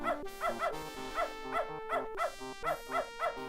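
A dog barks in the point-and-click video game Beneath a Steel Sky, giving repeated evenly spaced barks over a steady game music background, moderately loud throughout.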